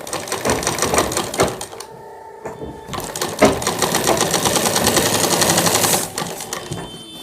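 A sewing machine stitches a shirt seam in loud, close bursts of rapid needle clatter, pausing briefly before a long steady run that stops abruptly.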